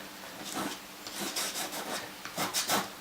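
Soft pastels rub across paper in repeated scratchy, grainy strokes, heard close but fairly quiet. The texture comes in short uneven bursts with no talking.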